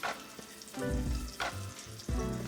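Chicken party wings coated in egg and flour sizzle as they fry in a pan, with steady crackling and bubbling from close by and a few stirring clatters.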